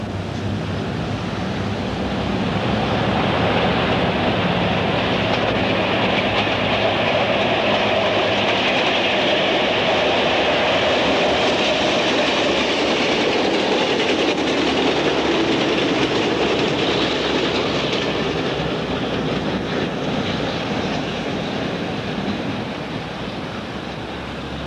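Southern Pacific 4449 Daylight steam passenger train rumbles past on its 1981 return from Railfair, a loud steady roar of wheels on rails with rhythmic clickety-clack that swells and holds, then eases slightly at the end.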